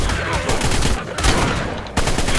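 Gunfire in the video game ARK during a fight with an alpha raptor at an Arctic base, loud blasts in quick succession over chaotic game noise with faint voices underneath.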